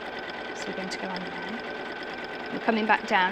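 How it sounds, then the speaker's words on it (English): A sewing machine runs steadily while stitching a tree outline in reverse, with a constant mechanical whir under a woman's speech that grows louder near the end. "So we're actually stitching backwards at the moment."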